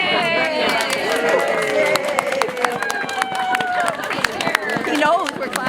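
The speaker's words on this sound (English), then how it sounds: "He knows we're clapping for him." A crowd claps for the groundhog at a 2017 Groundhog Day gathering. Dense, crisp claps patter throughout under lively talk and background chatter.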